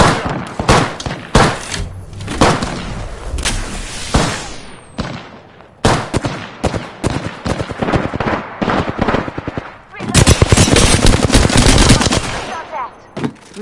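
Video game gunfire pours out loud and close: rapid automatic bursts and single shots crowd together with brief gaps, ending in a sustained, dense barrage.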